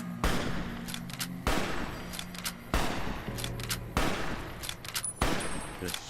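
Anti-materiel rifle fire in modded Fallout New Vegas: five heavy, evenly spaced shots, each a sharp loud crack followed by a ringing decay, with faint game effects between them.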